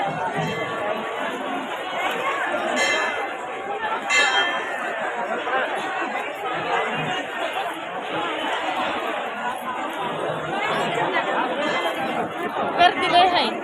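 A dense crowd at a busy temple festival, many voices overlapping in loud, continuous chatter close around, with a few faint bell rings and someone speaking over the noise.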